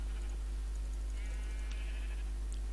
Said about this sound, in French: Là il y a des moutons.